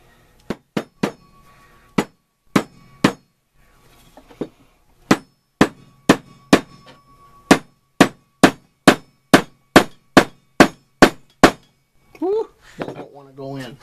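Steady hammer blows drive a wedge into the eye of a rehandled hatchet, about twenty sharp metallic clangs at an uneven, then regular pace, ending with a short burst of other handling noise.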